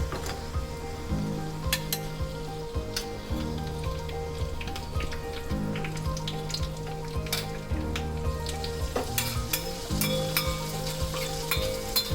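Cashew nuts roasting in a hot pan with a continuous sizzle and crackle, punctuated by occasional sharp stirring clicks and scrapes, close and steady, with no talking.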